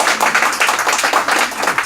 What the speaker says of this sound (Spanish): un aplauso para ti también